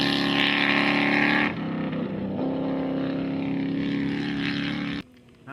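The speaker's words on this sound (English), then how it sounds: "The deep-throated V8 could be heard rumbling through the stage for miles." Mercedes 450 SL V8 on a rally stage at the East African Safari Classic Rally, a deep, steady engine roar holding loud and continuous before dropping away abruptly near the end.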